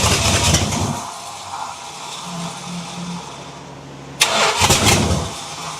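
A Mopar engine swapped into a Datsun farm truck cranks loudly and struggles to catch, starter grinding in rhythmic pulses, a quieter lull, then another hard burst of cranking.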